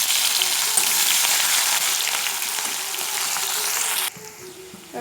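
Crushed ginger, onion and green chilli hit hot oil with a loud, steady sizzle that holds for about four seconds, then drops off sharply, leaving a quieter crackle.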